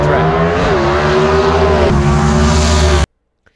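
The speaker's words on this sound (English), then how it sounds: "Listen to these cars get down the track." Gasser drag race cars with manually shifted four-speed gearboxes roar hard down the track at Mooresville Dragway, a loud sustained engine drone that climbs in pitch and shifts once before cutting off abruptly into silence.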